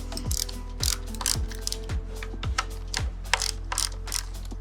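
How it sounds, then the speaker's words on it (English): Two 6mm pinch bolts being loosened on the front axle of an SG400 motorcycle, heard as a close ratchet clicking in quick, evenly spaced bursts with a steady mechanical hum beneath. "We've got the 2 pinch bolts, they're 6mm, and I'm going to go ahead and loosen those up."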